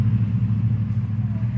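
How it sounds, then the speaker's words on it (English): Vehicle engines passing outdoors at sunset, a steady low rumble that stays loud and even throughout, with no talk over it. "Got some engines going by."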